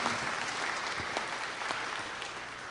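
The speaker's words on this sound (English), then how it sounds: "I want to make sure we give them a round of applause." An audience at a tribute event for Vietnam veterans applauds, a dense, steady round of clapping heard alone.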